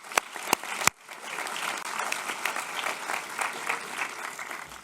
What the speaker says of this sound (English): How about a round of applause for Miss Bridget Lambert?